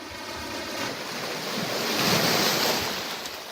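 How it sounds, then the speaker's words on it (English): Ocean waves surge and wash steadily at a campsite, a loud, continuous roar with wind noise across the microphone, swelling toward the middle and easing off again, with no voices. "Do you hear the ocean waves?"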